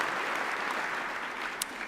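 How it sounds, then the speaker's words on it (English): Dense audience applause at a city's State of the City address, a steady wash of many hands clapping in a large hall, even and sustained throughout. "let's give a big round of applause"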